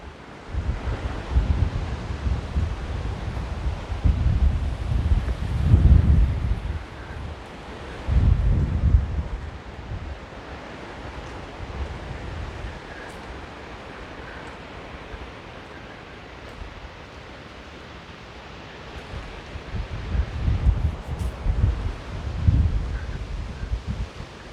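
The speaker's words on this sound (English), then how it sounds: "Yeah, the wind's blowing strong." Strong wind blows outdoors in Vrede, Free State, buffeting the microphone with deep, rumbling gusts that swell and ease over about twenty-five seconds, loudest in bursts near the start and end, with no one speaking.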